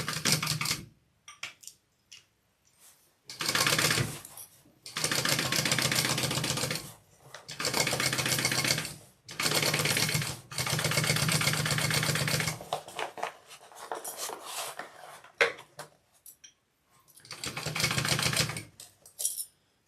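Sewing machine stitching a seam on a handmade bag project, running in bursts of steady mechanical whirring separated by short pauses, close and fairly loud, with no talk.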